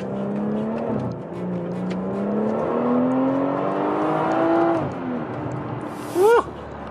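BMW 340i F30 sedan pulling hard from a stop, heard from inside as the engine climbs through rising revs with a couple of gear shifts, loud and continuous, ending with a brief whoop.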